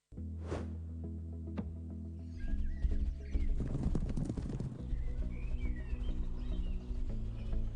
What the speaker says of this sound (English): there's some great scenes of here of horses under the water